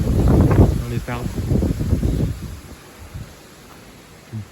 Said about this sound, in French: Une bonne petite rafale.